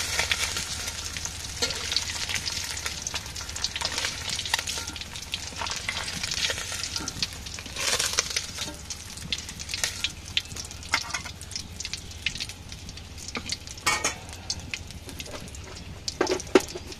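Onions sizzle and fry in a pan: a continuous crackling hiss with scattered sharper pops and occasional scraping stirs throughout, close and fairly quiet, with no voices.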